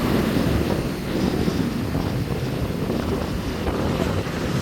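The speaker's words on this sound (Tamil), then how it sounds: "இங்கே ஒரு போட் ஒன்று வருது" A boat moving across a choppy sea off Jaffna, heard as a steady, continuous rumble of engine and water mixed with strong wind buffeting the microphone, with no pauses throughout.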